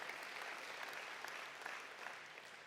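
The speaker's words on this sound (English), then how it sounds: "A round of applause for Peter." Applause at an agricultural awards night, a crowd clapping steadily for a speaker for a few seconds, an even patter heard from a distance and fairly quiet.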